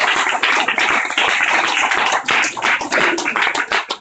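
Close, loud clapping from a small gathered group, uneven and lively with brief dips and surges as hands slap together.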